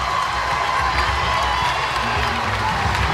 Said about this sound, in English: Well, the crowd's chanting for it.